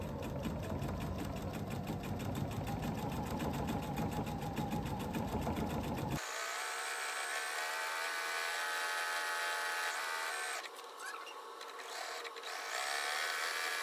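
A sewing machine runs a long continuous stitch down a tote bag seam, a steady fast whir that stops abruptly partway through. A quieter, smoother mechanical hum continues afterward.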